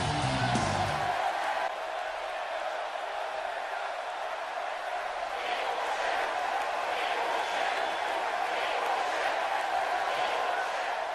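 Steady crowd roar and cheering in the arena of the WWE 2K18 wrestling video game, a continuous loud wash of noise throughout with faint whoops rising later on.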